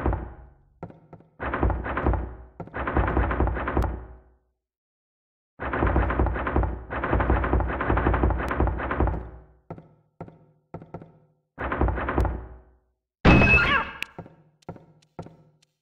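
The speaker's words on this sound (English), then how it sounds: "a single locker with something banging from inside" In the Silent Hill video game, something bangs from inside a locker in loud, close bursts of rapid thuds and knocks. The bursts are separated by brief silences and end with a sharper metallic clang and a few scattered taps.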